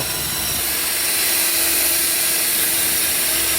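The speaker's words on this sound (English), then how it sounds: "Just take your time and drill slow." Continuous power drill whine close by, steady and loud for a few seconds with a grinding bite into material, no voices.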